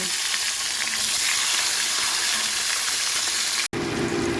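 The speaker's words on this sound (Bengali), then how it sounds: "তারপর টমেটোর কুচি, দিয়ে মশলাটাকে কষিয়ে নেব।" Spice paste with chopped tomato sizzles steadily in a pan for a vegetarian soyabean kofta curry, a close, even frying hiss with a brief cut near the end.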